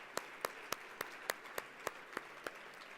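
Applause for Chancellor Jones and the deans at an Illinois alumni luncheon in Chicago, heard as faint, distant clapping with about ten steady, distinct claps standing out over a soft crowd wash.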